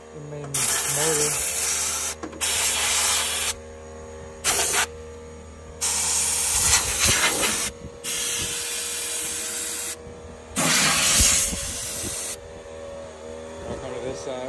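Bursts of spray hiss from a hose or air nozzle cleaning a dusty flooring removal machine, coming in repeated blasts of a second or two with short pauses between them, close and fairly loud.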